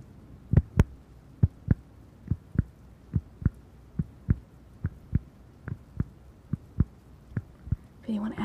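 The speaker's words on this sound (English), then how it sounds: "It sounds exactly like a heartbeat." A heartbeat-like sound made by working an object against a microphone: about sixteen soft, deep double thumps in a steady pulse, close and fairly loud over a quiet hiss, with a brief rustle at the end.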